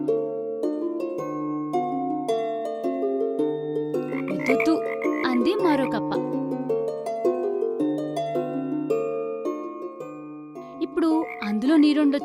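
A frog croaks in an animated children's story, with repeated loud ribbiting calls in quick rhythmic bursts over a steady musical background.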